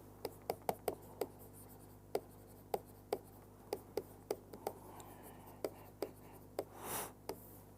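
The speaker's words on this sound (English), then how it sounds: "let us first write down the Feynman diagrams" Marker or chalk writing Feynman diagrams on a board during a physics lecture: a steady series of sharp taps and short strokes, fairly close, with quiet room tone and no talk.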